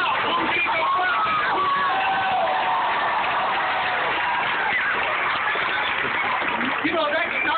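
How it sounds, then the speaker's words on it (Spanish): Crowd at a church Christmas outreach cheering and shouting with applause, a dense continuous roar of many voices with whoops and shouts throughout, loud and steady. "I want you to give the biggest applause you've ever given."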